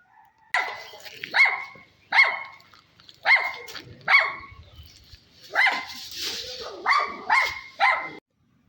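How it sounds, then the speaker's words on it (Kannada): A Pomeranian in a garden barks at a snake, letting out about ten sharp, high yaps in short bursts with brief gaps between them. The barks are loud and close, with no talking. "ನಮ್ಮ ಪಕ್ಕದ ಮನೆ ಒಂದು ಪೊಮೋರಿಯನ್ ತೋಟದೊಳಗೆ ಬೊಗಳ್ತಾ ಇತ್ತು"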